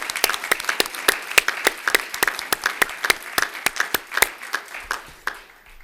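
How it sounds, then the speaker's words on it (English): Sparse audience clapping at a city service awards ceremony, individual sharp claps ringing out in a quick uneven rhythm from a modest group, fairly close, thinning out and ending near the close. "Let's also give a huge round of applause to the 114 Service Award recipients"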